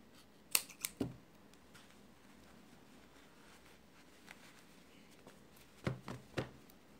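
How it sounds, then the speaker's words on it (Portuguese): Scissors cut yarn, a few quiet close snips in two clusters, one early and one near the end, with near silence between. "E agora é só cortar a linha."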